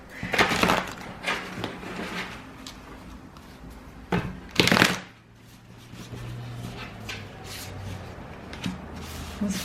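Tarot cards being shuffled by hand, with several sharp riffling bursts and soft papery taps at close range, separated by quieter pauses.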